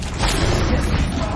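Confringo fire spell blast from Hogwarts Legacy, a dense, sustained booming burst with crackling rumble filling the whole moment at steady loudness, no talking over it.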